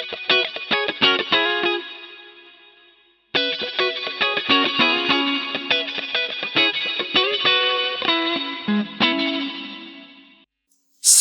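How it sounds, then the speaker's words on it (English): Electric guitar played through a Harley Benton DNAfx GiT Pro multi-effects unit with plate reverb engaged, loud distorted chords and picked notes with a bright, dense wash of reverb, a short pause, then a second phrase ending in a ringing tail. "Plate reverb."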